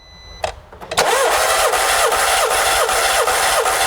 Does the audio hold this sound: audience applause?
no